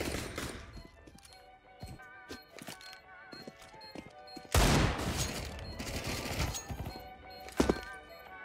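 Rapid gunfire from the video game CS:GO rattles in uneven bursts, with sharp impacts and a dense stretch of shooting midway that peaks near the end, while game sounds chatter underneath.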